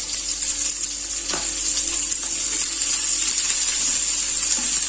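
Garlic, green chili, ginger and roughly chopped onion frying with mini potatoes in a pan give a steady, bright sizzle that holds evenly throughout, with a faint knock partway through and no talking.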